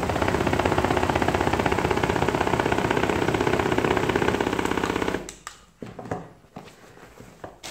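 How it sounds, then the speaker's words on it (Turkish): An Acura AC 777 Herkül five-motor tracked slimming belt runs with a loud, steady vibrating motor hum that cuts off abruptly after about five seconds, followed by faint handling knocks. "Aynı zamanda 2, 3, 4 ve 5 motoru da aynı anda çalıştırabiliyorsunuz."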